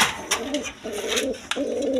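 A pair of Chuachandan pigeons gives repeated low rolling coos, three drawn-out calls close by, with light clicks between them and no talking.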